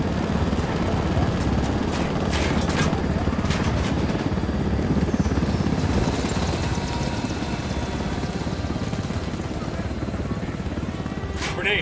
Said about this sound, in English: Helicopter, get down!